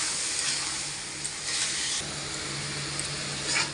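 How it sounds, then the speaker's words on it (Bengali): A spice paste of chilli powder, turmeric and salt cooks in oil in a pan, a steady, even frying hiss with slight swells now and then, close and without any voices. "এবারে দিয়ে আমি মশলাটাকে কষে নেব"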